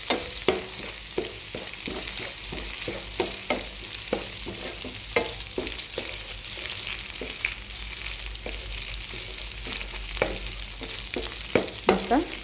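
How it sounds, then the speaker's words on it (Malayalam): Egg thoran mixture stirred in a pan on high flame, a spoon scraping and tapping in an irregular rhythm over a constant loud sizzle of frying, close and without talk. "എന്നിട്ട് നമ്മൾ ഇതെല്ലാം കൂടെ ഒരുമിച്ച് ഇളക്കി യോജിപ്പിക്കുക."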